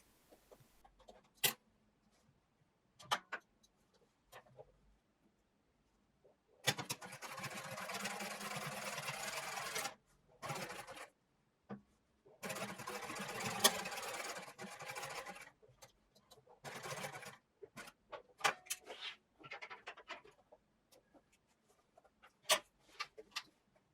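A sewing machine stitches the bottom edge of a jeans belt loop, with two longer steady whirring runs separated by quiet gaps and scattered clicks and taps, fairly faint and alone.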